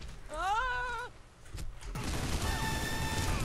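After a wavering, groaning tone, continuous automatic weapon fire in the Loadout video game starts and keeps going as a dense, unbroken rattle to the end.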